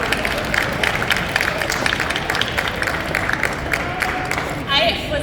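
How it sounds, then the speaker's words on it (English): Audience applause at a New York Comic-Con 2022 adaptive cosplay panel, a steady roomful of clapping with crowd murmur and voices mixed in throughout, staying loud and continuous to the end. "So big round of applause for Make-A-Wish."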